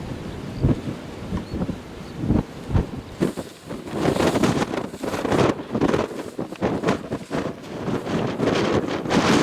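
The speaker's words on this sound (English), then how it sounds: "even on the sheltered side here, I'm in the full blast of the wind" Strong gusty wind buffets the microphone on an exposed hillside at Claypot Hill near Watergrove, Wardle, in a loud, continuous roar with surging rushes and no voices.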